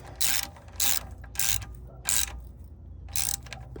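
A hand ratchet tightens a bolt on a car's gear shifter assembly during a shifter install, sounding as five quick bursts of sharp clicking, close and loud, with short pauses between strokes.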